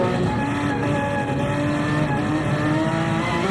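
A race car in the CLR 2.4h Series on the Nürburgring, braking into the Carousel: a steady, close engine drone with layered harmonics and a held pitch, loud and continuous with no voices.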